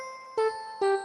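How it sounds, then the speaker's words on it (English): Two bright, chiming notes from a crystal bell preset on a Genius keyboard sound in quick succession, each a sharp glassy strike with shimmering overtones that rings briefly and fades, clear and close with no talking. "crystal bells,"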